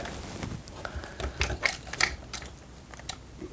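A ratcheting strap is tightened on a LitraTorch 2.0 drone light mount, giving a run of quiet, close, irregular ratchet clicks with a few sharper snaps among them.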